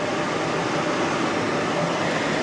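An auxiliary heater air fan in a VW T4 camper runs at second speed, giving a steady, even broadband whoosh of airflow, faint and unchanging, with no other sounds.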